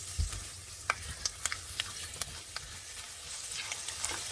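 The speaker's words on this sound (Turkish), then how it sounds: "Biz pilavın içine kullanacağımız bademi kavuralım." Almonds dry-roasting in a pan for pilaf, with faint crackling and a steady light sizzle broken by repeated sharp clicks and scrapes of stirring, fairly close and with no talk.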